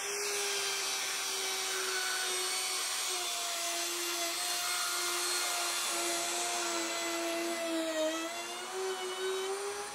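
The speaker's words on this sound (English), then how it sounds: "After I make the first pass, I'll adjust the depth of cut on the router and make a second one." A router cuts a slot in plywood, giving a sustained high whine with a slightly wavering pitch that continues steadily and fairly close throughout, with no voices.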